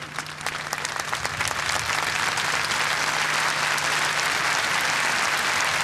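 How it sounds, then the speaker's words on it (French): Large crowd at a papal Mass in Chile breaking into applause, starting with scattered claps and swelling into a broad, sustained roar of clapping from a distant outdoor gathering, with a low hum beneath. "ces applaudissements viennent saluer cette entrée en matière en langue mapuche"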